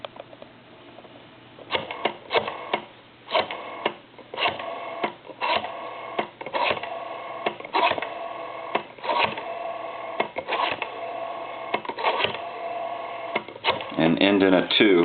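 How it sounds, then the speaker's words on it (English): Repeated mechanical clicking and whirring bursts as a Western Electric rotary telephone dial turns and spins back, several numbers in succession, close up and fairly loud. "we're going to go ahead and dial some numbers here real quick."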